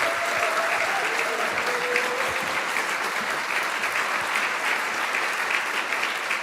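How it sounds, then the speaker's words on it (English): Steady audience applause at a physics department undergraduate diploma ceremony, a dense, even wash of clapping from a seated crowd lasting the full stretch without a break. "you can applaud him again"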